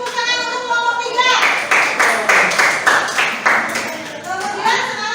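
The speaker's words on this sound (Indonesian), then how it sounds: "Kasih tepuk tangan untuk kelompok 3." Children in a classroom clap together in a burst of steady applause lasting a few seconds, following a teacher's voice and with faint kid chatter mixed in.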